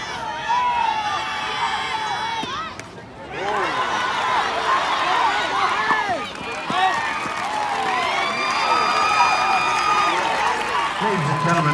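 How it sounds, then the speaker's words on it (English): Crowd at a Class 1A state championship softball game cheers and applauds, a sustained wash of clapping, shouts and whistles with children's voices, continuing loudly for about twelve seconds with a brief dip near the start. "Ladies and gentlemen, nice round of applause for these teams"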